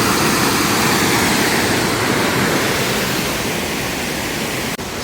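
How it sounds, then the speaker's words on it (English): The waterfall at Sweet Arrow Lake Park roars as a steady, loud broadband rush of falling water, close by and constant throughout with no voices, a brief dip near the end. "as you hear right behind me are the falls here at Sweet Arrow Lake"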